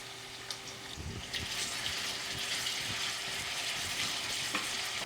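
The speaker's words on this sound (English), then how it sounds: "Now we're supposed to fry these sliced onions in the oil for about 20 minutes." Sliced onions frying in oil on a stovetop, with a steady close hiss and crackle and occasional stirring clinks and scrapes, and no talking.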